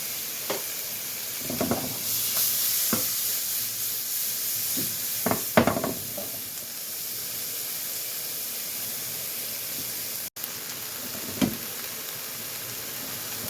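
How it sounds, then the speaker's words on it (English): Chili con carne ingredients sizzle in a pan as colored peppers go in: a steady frying hiss with a few louder crackles and stirring scrapes, close and continuous, with no talking. "I'm going to add my different color peppers"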